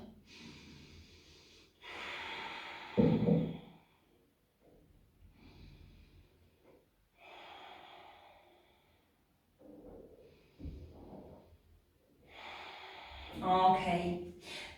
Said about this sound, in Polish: Trzy głębokie oddechy do brzucha.